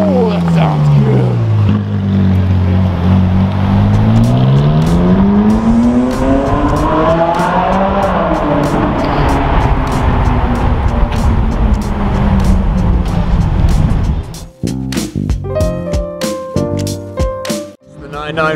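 A Ferrari 458 Spider revs hard nearby, the engine note climbing and falling in loud sweeping pitch bends, then sharp bursty throttle blips near the end, with people talking over it.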